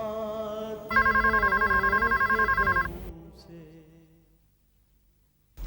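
A telephone bell rings in a Hindi TV drama household scene, with a steady trilling ring lasting about two seconds that then fades into quiet room tone.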